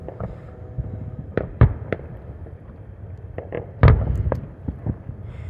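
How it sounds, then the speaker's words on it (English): Fireworks bursting close by at night, a run of sharp pops and heavier booms, two loud thuds standing out among scattered crackles, with steady background hiss and no talk. "oh, they're so awesome seeing all these fireworks."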